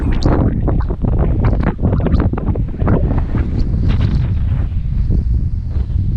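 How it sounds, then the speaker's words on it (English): Strong wind buffets the microphone at the Baltic seaside in Warnemünde near the mouth of the Warnow river, a loud, continuous roar with gusty surges throughout and no speech. "I don't know if you can hear me because it's too windy."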